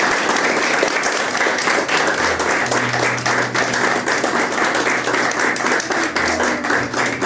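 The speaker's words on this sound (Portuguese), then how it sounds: "Tome seu assento e aplauda bem forte Jesus" A church congregation at a communion service claps loudly and steadily, a dense sustained wave of applause from many hands lasting several seconds, with a faint low tone running beneath.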